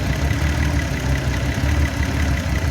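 A BMW 730i E32 with the M30B30 inline-six hums at a slightly raised idle, a steady low rumble held close with no talk, during airflow meter diagnosis.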